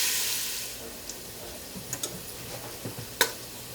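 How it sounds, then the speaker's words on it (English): Rendered bacon sizzles in a pot for a tomato-based, lactose-free clam chowder, a faint constant fry broken by scattered small ticks and pops, with one sharper crackle near the end. "Now that our bacon has rendered and is starting to go brown"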